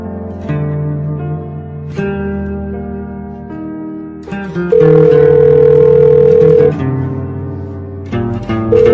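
A steady electronic telephone tone holds for a couple of seconds among electronic musical notes, loud and clear with no voices.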